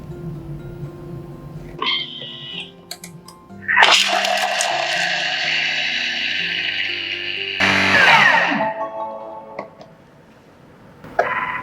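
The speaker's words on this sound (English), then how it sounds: "So first, I'm going to blend the spices." A Thermomix blends lemongrass, shallots, turmeric and garlic in its mixing bowl: a few clicks, then a loud whirring motor runs steadily for several seconds, surges once more, and winds down.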